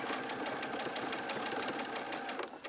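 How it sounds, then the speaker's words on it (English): A sewing machine runs steadily, its needle tapping in an even rapid rhythm as it stitches slowly along a seam of a Lone Star quilt, close and continuous with no talking. "And then I'm going to stitch right along to that, right along the seam."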